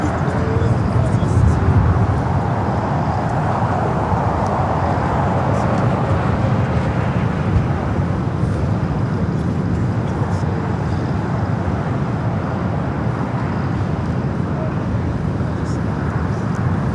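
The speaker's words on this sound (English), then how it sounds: "The United Dreamliner up next for arrival." A United Boeing 787-9 Dreamliner arrives at LAX from London Heathrow, a continuous, loud jet rumble that stays even throughout and is heard from a spotting position near the airfield.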